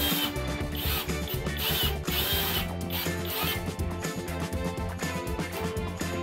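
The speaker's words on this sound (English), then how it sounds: "I reinforced it by screwing in a screw." A power drill drives a screw into a bicycle stand, a continuous loud mechanical whir with rhythmic ratcheting pulses that runs unbroken throughout.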